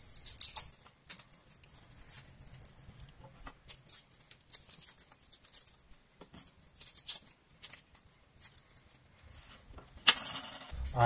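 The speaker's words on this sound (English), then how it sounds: "I'm going to be using 3 garlic cloves. So I'll just peel these." Three garlic cloves being peeled by hand, with soft papery crinkling, light taps and small clicks in an irregular patter, close and quiet, ending in a brief louder rustle.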